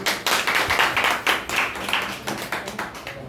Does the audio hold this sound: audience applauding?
yes